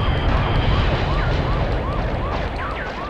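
A police car siren in the 1999 PlayStation game Vigilante 8: 2nd Offense wails, sweeping up and down repeatedly over a loud, rumbling engine-like roar, close and continuous.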